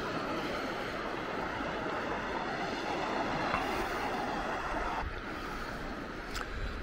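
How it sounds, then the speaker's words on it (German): Calm sea at Maspalomas, Gran Canaria, with a steady, continuous wash of gentle surf close by, mixed with a breathy wind rush throughout and no voices. "Wunderschön, hier ist es ja auch wirklich ganz ruhig mit den Wellen."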